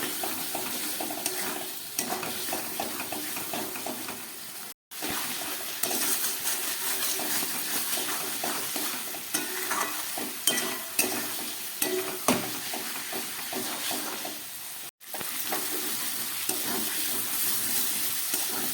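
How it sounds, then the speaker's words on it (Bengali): Spice paste with ground green chilli and a splash of spice-rinsing water being sautéed and stirred for a fish curry: steady close sizzling with constant scraping and clinking of a spoon in the pan, briefly cut twice, with no talk. "এটা দিয়ে আবারও খুব ভালো করে আমি কষাবো।"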